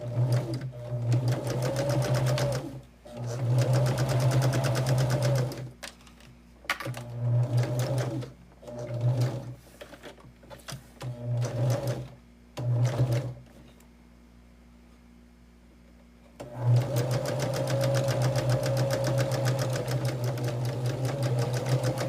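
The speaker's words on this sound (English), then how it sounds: "Okay, so again, we have chain stitching." A sewing machine chain-stitches quilt block pieces in several loud, steady whirring runs close by, each run broken by brief pauses, with one longer quiet gap before a final sustained run.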